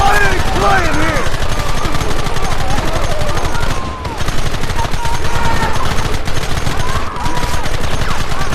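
Dense, rapid gunfire rattles through a Red Dead Redemption shootout, loud and nearly continuous with brief lulls, rifle and pistol shots overlapping while distant shouts rise faintly beneath the barrage.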